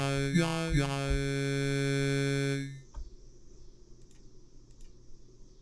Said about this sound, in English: The first is the classic sample rate reduction sound that has been around for a while.